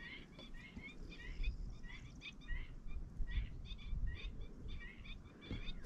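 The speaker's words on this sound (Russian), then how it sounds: "Слышно, как птички кричат." Birds call outdoors beside a large reservoir being filled by a canal, with repeated short high chirps and squawks coming in bursts over a faint, rumbling background; the calls sound moderately distant and fairly quiet.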